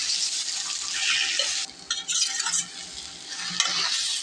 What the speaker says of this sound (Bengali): এখন ভালো করে ভাজা ভাজা করে রান্না করতে হবে